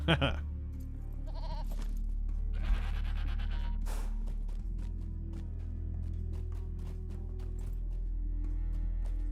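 A goat in the Lord of the Rings Online game bleats in a few short cries over a steady low game hum, with a voice talking faintly in the background.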